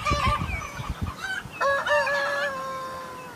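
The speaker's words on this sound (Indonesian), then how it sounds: "Ternyata ini ayam." A chicken clucks and squawks in a series of rising, drawn-out calls, close and fairly clear, with a few short clucks at the start.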